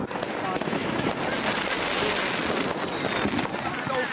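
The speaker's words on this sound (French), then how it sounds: "Tout roule, sauf les feux d'artifice d'Alexis," New Year's fireworks crackle and pop in dense, rapid bursts at a loud, steady level, with wind noise across the microphone and faint voices in the background.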